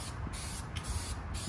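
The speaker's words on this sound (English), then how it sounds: "You just can't get the spray paint and just spray it on there." An aerosol can spraying paint onto a Dodge Charger 392 gives a steady, close hiss that breaks into short bursts separated by brief gaps. A faint low rumble runs underneath.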